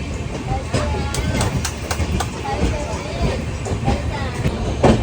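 A Mumbai local train runs near Vidyavihar station, its steady rumbling roar broken by the clatter of the wheels over rail joints, with a voice talking over the noise.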